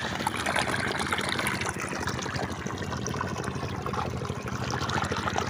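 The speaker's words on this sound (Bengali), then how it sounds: "এই যে পানি যাচ্ছে" Irrigation water flows steadily into a freshly harvested paddy field, a continuous close trickling and gushing wash that stays even throughout, with no talking.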